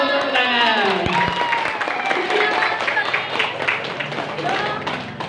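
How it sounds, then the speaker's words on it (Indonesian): Brief audience applause at an Islamic boarding school seminar in Indonesia, scattered clapping rising under ongoing crowd chatter and voices. "Aplaus, tepuk tangan."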